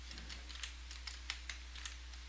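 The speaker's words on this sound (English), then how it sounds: "I'm going to go ahead, I'll type a little bit." Light keystrokes on a computer keyboard, about a dozen soft clicks in an uneven typing rhythm, close but quiet over a low steady hum.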